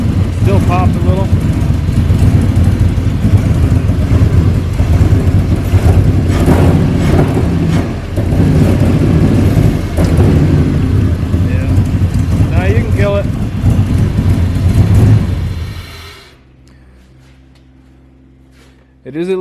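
Ford F-350 ramp truck with a swapped 8.1-liter big block V8 running after its first start, a loud rough rumbling idle with occasional pops, then cutting off abruptly, leaving a faint low hum.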